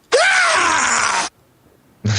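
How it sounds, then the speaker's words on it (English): Howard Dean's scream, slowed down about a hundred times, becomes a loud, drawn-out groaning wail whose pitch rises briefly and then slowly sinks before cutting off into near silence, after which another loud burst begins. "Take the Dean Scream and slow it down about 100 times. Right. That's what the black hole sounds like."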